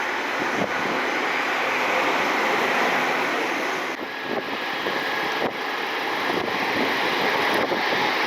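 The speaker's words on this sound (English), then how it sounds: "over on the runway, we got a business jet taking off" A business jet takes off from a Cleveland airport runway, a steady broadband engine roar sustained throughout with wind buffeting the microphone and no voices.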